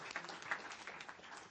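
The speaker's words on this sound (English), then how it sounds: "So with a round of applause, please show your appreciation on Valentine's Day." Brief, faint round of applause from the audience at a county school board meeting honoring dual enrollment teachers, a soft scattered patter of hands.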